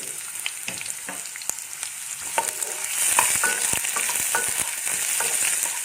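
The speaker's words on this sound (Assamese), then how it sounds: "অকণমান ৰঙচুৱা হোৱালৈকে মই পিঁয়াজটো ভাজিম" Onions frying over a medium flame in hot refined oil, a steady soft sizzle with scattered crackles and spatters, broken by occasional sharp clicks of a utensil stirring in the pan.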